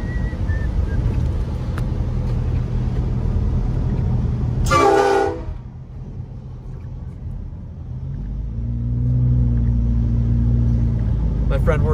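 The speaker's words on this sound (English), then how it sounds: "There, so I had to give him the old honky honk." Car horn blasts once, loud and close, during a snowy drive in Big Bear, California, over steady engine and road rumble, with low engine tones rising afterward.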